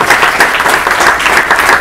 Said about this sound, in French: Les artistes que j'aimerais que vous applaudissiez de nouveau, qui sont Delphine au tam-tam,